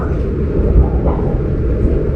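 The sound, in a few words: Brawijaya passenger train arriving at Blingi station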